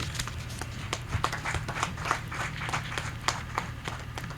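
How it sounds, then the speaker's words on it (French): An audience at the launch of the Djogbe festival applauds, a steady stream of many claps with some sharper individual claps rising out of it, sustained and fairly close throughout. "Que je vous prie d'applaudir"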